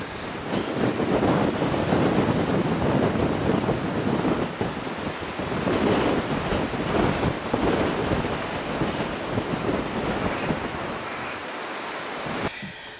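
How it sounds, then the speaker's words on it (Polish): Strong outdoor wind buffets the microphone in loud, continuous roaring gusts that hold steady for the whole stretch, with no voices heard. "Nie nagrywam tutaj, bo strasznie wieje."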